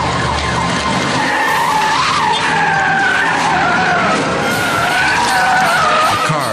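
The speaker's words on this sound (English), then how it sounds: "The car swerves to avoid their Mustang and skids out of control." A car swerves and skids out of control in a multi-car highway pileup, its tires squealing loudly and continuously with wavering pitch over rumbling engine noise for the whole stretch.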